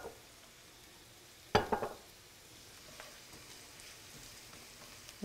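Chopped garlic frying in a pan for an Italian stuffed pepper filling: a soft, faint sizzle under a quiet room, with one sharper stir or clatter early on and scattered light crackles after.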